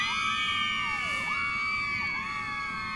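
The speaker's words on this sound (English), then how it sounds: "it's like a perfect infatuated scream, like if you really love something or if you're really afraid" A sustained, layered high scream rings out loud and continuous, with a few swooping happy woos dipping through it. No talking is heard.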